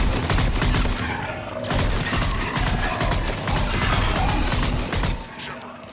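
Sustained gunfire in the Mass Effect game, rapid overlapping bursts of automatic shots crackling almost continuously, loud and close, with brief lulls between volleys.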